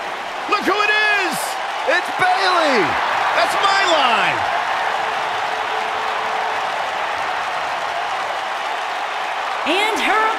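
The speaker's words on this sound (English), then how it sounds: "This Vegas crowd really is this loud." A loud Las Vegas wrestling arena crowd in a WWE 2K19 video game roars and cheers steadily throughout, with an announcer's amplified voice booming over the noise at the start and end.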